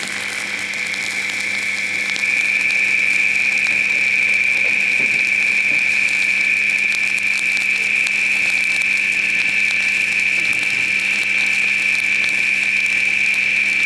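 A dishwasher pump motor runs toward burnout with a loud, steady high-pitched whine over a constant electrical hum, growing slightly louder after a couple of seconds and holding unchanged throughout, with no talking.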